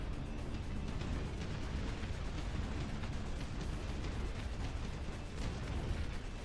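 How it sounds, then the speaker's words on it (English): Cannons firing over a wall during a real-time strategy battle: a continuous, faint wash of booming, crackling battle noise with no clear pauses and no talking. "I like how these cannons just up here and fire. Fire over the wall too."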